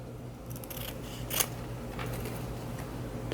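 Scissors snip through ribbon at a diagonal while making a wreath, giving a few quiet, crisp cuts with one sharper snip, close up over faint background hum.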